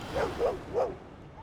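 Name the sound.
dog barking in video game Divinity: Original Sin 2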